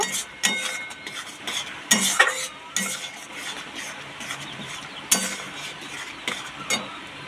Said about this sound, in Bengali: এখানে দেখো আমি গরম মশলা দিয়ে দিচ্ছি অল্প করে, দিয়ে এটাকে ভালো করে নেড়ে নেব